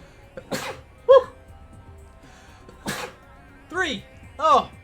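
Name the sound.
sneezes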